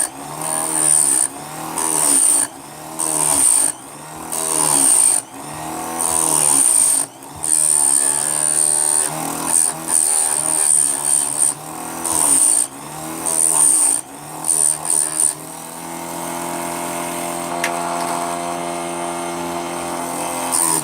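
A square grinder sharpening a chainsaw chain whines in short, loud, repeated bursts about a second apart, tooth after tooth, followed by a steadier lower hum for the last few seconds.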